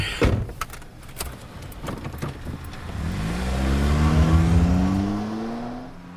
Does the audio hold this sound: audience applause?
no